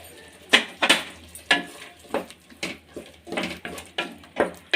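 Ginger garlic paste being stirred into a frying pan while making soybean pulao, with a spoon scraping and tapping against the pan in a steady series of sharp, fairly close strokes and faint sizzling between them.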